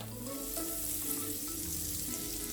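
A tablespoon of butter sizzles as it melts in a hot kadai for capsicum pulao, a dense, even, close crackle that holds steady throughout with no talk.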